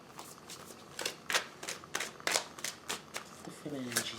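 Tarot cards are drawn and shuffled from a deck in a series of crisp, close riffling bursts, with a soft voice speaking briefly near the end.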